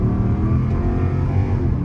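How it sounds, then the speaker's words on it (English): A Mercedes CLK63 accelerating hard in first gear, its engine a loud, dense, continuous roar heard from inside the car for the whole stretch, with no one talking. "Oh, that engine screams."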